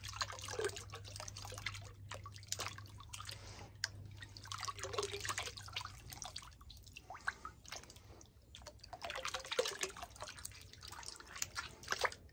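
Slimy water thickened with aloe vera gel drips and runs in a quiet series of soft, irregular wet drops and trickles, close by with no voices.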